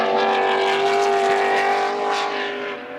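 Touring cars, including a Ford Escort RS 2000, race flat out down the straight at the Goodwood Members' Meeting, a loud, steady high-revving engine roar with harmonic whine that eases slightly toward the end.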